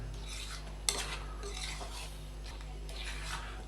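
A spoon clinks and scrapes against a bowl while raw mango chutney is mixed, with one sharp knock and soft stirring rustles over a low steady hum.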